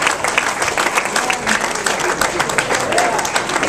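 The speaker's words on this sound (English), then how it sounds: "Let's keep clapping for all 9 contestants" An audience at the Funny Stop Comedy Club applauding a stand-up contestant, dense sustained clapping from a crowd, with a voice talking over it.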